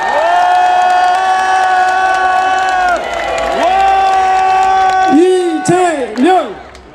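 A crowd at an outdoor political rally in Mokpo cheers and shouts together, with loud sustained voices and rising calls over clapping, close and dense throughout.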